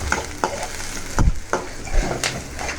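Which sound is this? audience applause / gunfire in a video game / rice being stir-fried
rice being stir-fried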